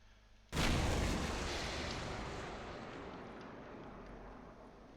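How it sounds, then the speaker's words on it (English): A cannon shell fired at a ship in Space Engineers booms out suddenly and loudly, then rolls into a long, slowly fading rumble, heard alone. "We fired 2 shells, 2 rounds."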